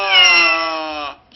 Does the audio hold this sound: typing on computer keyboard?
no